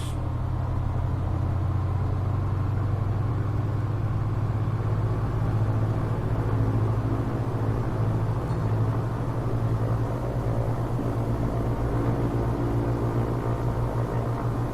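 A Piper PA-28R Arrow III single-engine propeller plane in a flight simulator game throttles up on its takeoff roll, giving a steady, loud engine drone with a low hum that holds constant throughout, with no voices.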